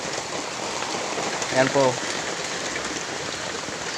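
Heavy rain pours in a continuous dense hiss, with someone speaking briefly partway through.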